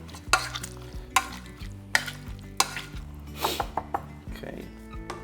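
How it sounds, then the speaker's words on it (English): Celeriac is mashed with melted butter in a pan, giving repeated wet thumps and squelching scrapes at an uneven rhythm, close by, with faint talk in the background. "get the butter melted, and then give it a good mash"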